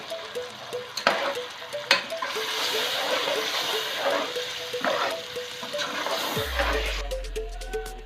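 Yogurt with spices is stirred into frying chicken in a pan, with soft sizzling, wet mixing and a few sharp spoon taps against the pan; a low hum cuts in near the end.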